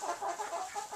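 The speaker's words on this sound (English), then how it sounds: "I have 26 hens in here and one rooster." Hens cluck softly in a backyard coop holding 26 hens and one rooster, a brief, fairly faint patter of murmuring calls.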